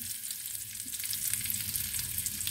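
Eggplant sautéing in a pan, ginisa style, while cooking misua with vegetables: a continuous crackling sizzle with some stirring, moderately loud and close, with no voices.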